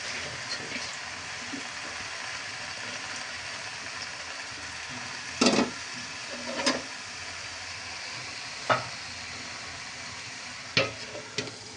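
Dried chepa shutki fish is fried with Malabar spinach and potatoes in a village kitchen pot. A steady, soft sizzle runs throughout, broken by a handful of short utensil scrapes and knocks.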